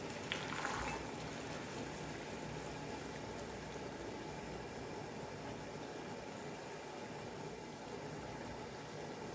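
Sugar syrup boiling in a pan while making Belgian candi inverted sugar syrup, with small dribbles of water added; a steady soft bubbling hiss, with a brief brighter sizzle near the start.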